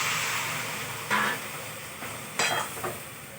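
Spice powders sautéing in a pan with a little water, a soft steady sizzle broken by a few sharp scrapes and stirs of a spoon against the pan.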